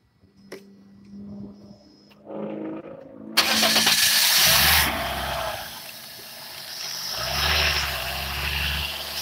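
A car engine is cranked and catches, a brief starter whir followed by a sudden loud burst as it fires, then settles into a rough, fluctuating idle close to the microphone.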